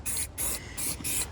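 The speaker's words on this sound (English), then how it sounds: "I've got some zinc galvanising spray" A can of zinc galvanising spray is fired in four short, even bursts of loud, close hissing, each about a third of a second, separated by brief pauses.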